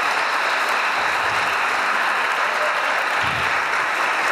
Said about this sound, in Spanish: El aplauso fuerte para nuestra arquidiócesis de Bucaramanga